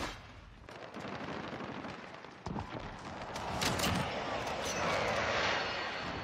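Gunfire from a first-person shooter video game comes in bursts of rapid shots and sharp cracks that build into dense, continuous firing, with a player's voice now and then.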